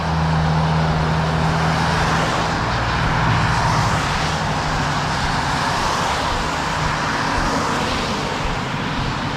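Steady, loud traffic noise from cars on a wet road, a continuous broadband hiss and rumble with passing vehicles blending together close by, with no talking.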